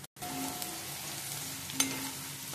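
Onion fries in a pan for poha as turmeric is added, giving a steady, close, even sizzle throughout with a faint clink partway.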